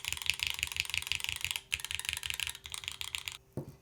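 Rapid typing on an Optica 60% mechanical keyboard with an aluminum plate, a dense run of crisp clacky keystrokes in quick bursts with brief pauses, ending in a heavier thock.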